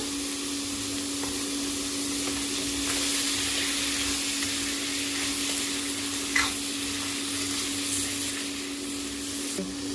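Chicken liver fries with chilli powder, coriander powder and cumin powder in a pan, a steady quiet sizzle with a constant hum underneath and one brief scrape near the end.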